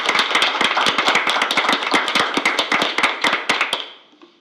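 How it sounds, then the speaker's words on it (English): Applause at a board of education meeting: a small group claps in quick, crisp, close-sounding beats for about four seconds, then the clapping thins and fades out. "I'd like to ask everyone to please applaud Alan Mayer"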